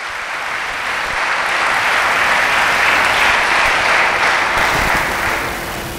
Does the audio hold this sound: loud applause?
yes